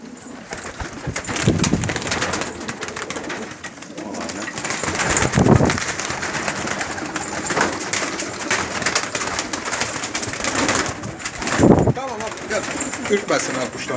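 Pigeons coo in low, throaty bursts throughout a coop, with rustling and occasional wing flutters nearby and some indistinct voices in the background.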